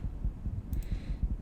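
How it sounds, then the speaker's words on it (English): Steady, muffled heartbeat pulses thump low and close in a regular double rhythm, with a faint hum underneath and a brief high shimmer partway through. "You can feel his heart beating out of his chest."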